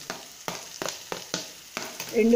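Coarsely mashed garlic cloves fry in a pan for a cluster beans and moong dal fry, a close sizzle that comes in several rhythmic bursts roughly every third of a second, as if stirred, with no voices.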